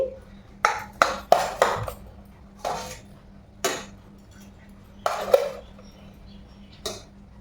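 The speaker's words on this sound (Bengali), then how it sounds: "এখানে একদম গরম গরম ভাত বেড়ে দিচ্ছি" Hot rice is served onto a plate with a spoon, giving a string of sharp, separate metallic clinks and taps spaced irregularly across a quiet room.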